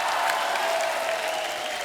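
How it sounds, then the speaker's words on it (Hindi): A studio audience on a Hindi comedy talk show claps loudly to welcome guests, a dense, sustained applause that fills the whole stretch and eases slightly toward the end. "जोरदार तालियां हमारे मेहमानों के लिए।"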